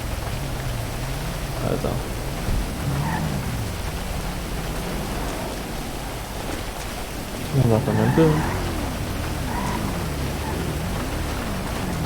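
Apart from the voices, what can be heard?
rain and thunder in a roleplay video game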